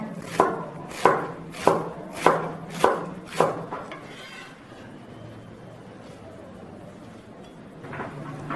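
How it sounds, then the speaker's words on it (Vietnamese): A knife finely chops green onion leaves sharply on a board six times in an even rhythm, then a quiet pause before one more chop near the end. "Lá thì sắc nhuyễn ra."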